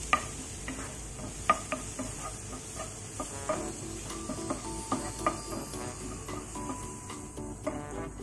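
Garlic sizzles softly in melted butter while a utensil scrapes and stirs the pan in irregular taps, a close, fairly quiet crackle with no talking.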